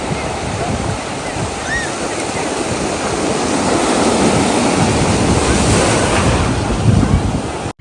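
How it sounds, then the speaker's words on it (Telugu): Ocean waves washing onto a beach, a steady loud roar of surf with wind buffeting the microphone, swelling toward the end before cutting off. "ఇలా వేవ్స్ చూసారా ఎలా వచ్చిందో సౌండ్"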